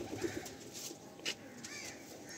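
Low, soft coos from Madrasi pigeons kept as a breeding pair, muffled and brief against a hissy background, with a faint chirp or flutter partway through.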